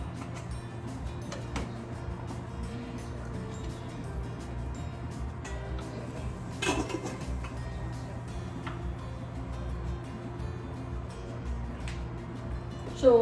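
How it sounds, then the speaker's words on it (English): Boiled green fig being turned in a pot: scattered soft clicks and taps of a utensil against the pot, with a slightly louder knock midway and a low steady hum underneath. "So let me turn this boiled fig here."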